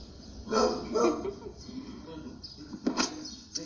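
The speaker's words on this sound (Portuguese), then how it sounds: "Cachorro" A dog barks indoors, a few muffled barks in two clusters, partly mixed with a person talking nearby.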